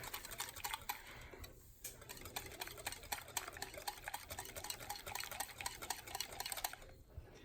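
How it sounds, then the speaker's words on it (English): Egg custard pie filling being stirred in a bowl, rapid rhythmic whisk clicks tapping against the sides, close and steady with two short pauses. "let's give that a stir"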